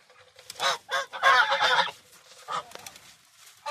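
Geese, ducks and chickens crowded together in a coop, giving off a run of loud honking and squawking calls in bursts, close by, with short pauses between them and no talking.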